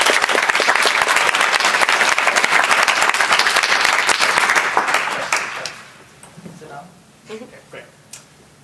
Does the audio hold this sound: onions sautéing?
no